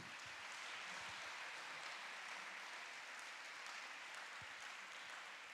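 Faint, sustained applause from a church congregation, many hands clapping in a dense continuous patter heard at a distance throughout.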